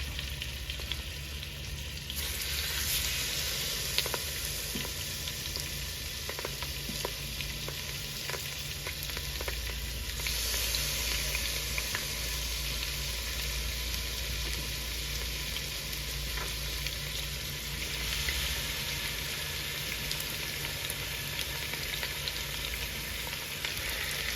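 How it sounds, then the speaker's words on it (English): Meat for birria tacos seared fat side down in a hot pan: a loud, continuous close sizzle with occasional faint scrapes, heard alone without any talk. "I'm going to place it the fat side down first so that I can render off that fat"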